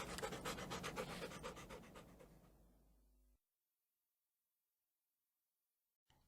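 A playful dog pants rapidly and close up for about three seconds, the breaths gradually fading away into silence.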